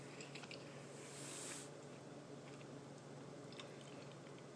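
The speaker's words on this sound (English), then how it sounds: "I had to chew my food up" Close, faint chewing of cereal, soft crunchy bites and mastication over a steady background hum, with no talking.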